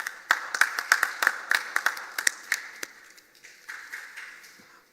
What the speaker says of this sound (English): So you should give yourself a round of applause for that.